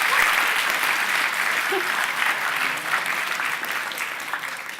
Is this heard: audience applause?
yes